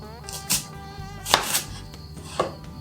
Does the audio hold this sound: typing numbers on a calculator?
no